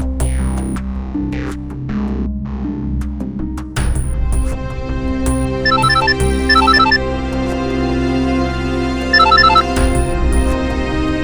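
A telephone ringtone repeats in bright, high electronic chirps over a loud, sustained musical score, recurring in short clusters throughout.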